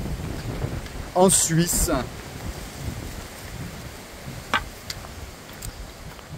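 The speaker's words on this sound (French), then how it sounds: "Oh là là, mais il y a tellement de vent." Strong wind buffets the microphone outdoors on a walking trail in France near Geneva, a steady rumbling gust under someone speaking briefly.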